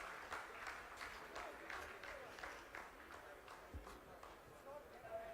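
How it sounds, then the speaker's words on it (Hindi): Scientists in the ISRO control room clap after the second phase of the Chandrayaan-3 soft landing completes, a moderate, sustained patter of many hands, uneven and somewhat distant, with soft talk underneath. "आप इस तालियों के गड़गड़ाहट को सुन सकते हैं"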